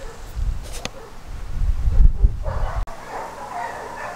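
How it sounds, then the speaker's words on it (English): Neighborhood dogs bark at a distance on a hot day outdoors, a few scattered woofs against low rumbling background noise. "Neighbor dogs."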